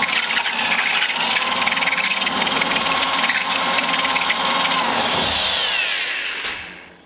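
High-pitched whirring cutter grinds steadily close up, shaping an aluminum valve guide in a ProComp 190cc Stage IV engine head, running continuously before spinning down at the end.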